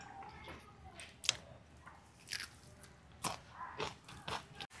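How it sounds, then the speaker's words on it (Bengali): Crisp crunchy bites into pan-fried fish, several sharp crackling crunches spaced a second or so apart against a quiet room, close and fairly soft. "মাছটা একদম কড়কড়া ভাজা হয়েছে, একদম মচমচে হয়েছে।"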